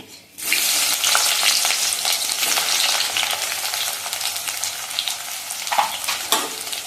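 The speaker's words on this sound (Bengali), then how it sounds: "পেঁয়াজটাকে আমি ভালো করে লাল লাল করে ভেজে নেব" Sliced onions frying in hot oil with half a bay leaf and whole garam masala, a loud steady sizzle with crackling pops and occasional stirring, close up with no talking.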